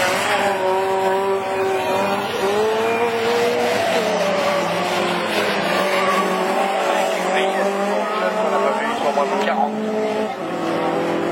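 Rallycross race cars, including a Citroën C4, roar past on a Division 4 circuit with loud, rising and falling engine notes and tire squeal, while a commentator talks over the racing.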